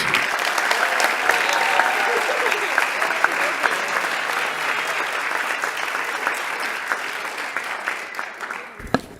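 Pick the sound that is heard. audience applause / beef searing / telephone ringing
audience applause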